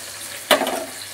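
Spiced potatoes dusted with Kashmiri chili powder hit a hot pan for a bele fish jhal, giving one sudden loud sizzle that settles into a softer, steady frying hiss.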